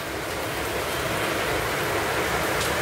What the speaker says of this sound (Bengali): শুনতে পাচ্ছ বৃষ্টির আওয়াজ, মানে মারাত্মক বৃষ্টি হচ্ছে, মুষলধারে বৃষ্টি হচ্ছে।